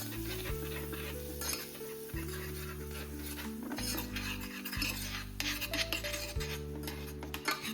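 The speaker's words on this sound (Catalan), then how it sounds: "El deixem un minut al foc remenant." A utensil scrapes and stirs fried tomato sauce from a jar in a pan, for patatas bravas, steady rasping strokes close by, over a sustained low hum and faint sizzling.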